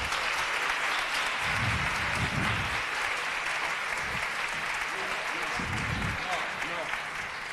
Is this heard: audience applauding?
yes